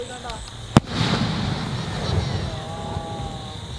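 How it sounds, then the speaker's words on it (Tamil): A Diwali night sky shot firework gives one sharp, loud bang followed by a fading crackling shimmer, heard outdoors with faint background noise. "நெக்ஸ்ட் வந்து ஸ்டாரஸ் நைட் ஸ்கை ஷாட்."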